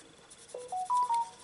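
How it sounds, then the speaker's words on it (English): A mobile phone gives a short series of electronic beeps at stepped pitches, fairly quiet and close, during a late-night indoor colouring session with no speech. "Excuse my phone."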